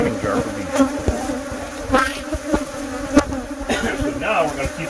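A steady, close buzz of many killer bees during a hive removal hums continuously, with sharp individual wingbeat passes rising over the drone.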